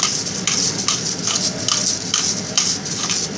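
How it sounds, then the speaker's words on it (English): Whole peppercorns are rubbed against a grater in quick, even scraping strokes, a close, bright rasping rhythm repeating about twice a second with no voices. "So this is like whole peppers with a grater"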